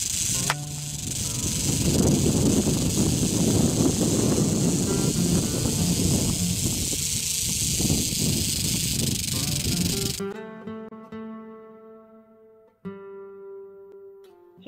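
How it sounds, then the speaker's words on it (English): A diamondback rattlesnake rattles continuously in a loud, close, steady buzzing hiss for about ten seconds before stopping, followed by quieter tonal sounds. "This is a video of a diamondback rattlesnake, which doesn't live in Virginia,"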